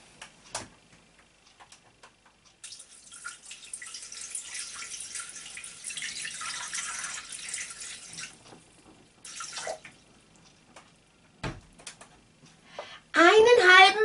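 Water streams into a Thermomix bowl for pretzel dough, a close, even splashing pour lasting several seconds, with quiet kitchen clicks and handling noises before and after and a brief louder clatter at the end.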